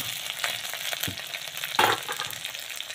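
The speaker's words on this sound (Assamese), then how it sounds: "কেঁচা পটলখিনি অকণমান ভাজি লৈছোঁ" Pointed gourd fries in a pan with a constant crackling sizzle, plus occasional scraping and a knock from stirring.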